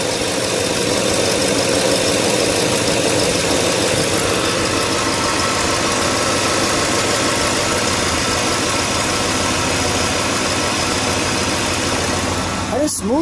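A rebuilt 1965 Oldsmobile Cutlass 442 engine idles steadily and loudly for several seconds, a smooth continuous rumble with a slight rhythmic knock, ending in a brief squeak.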